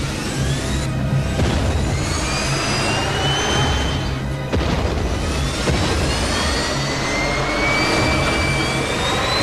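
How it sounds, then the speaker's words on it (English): Cartoon jump jets and thrusters fire in a loud, steady roar of jet-like engine noise with rising whines, sustained for about nine seconds without speech. "Jump jets! Thrusters! Up, and up! Boosters!"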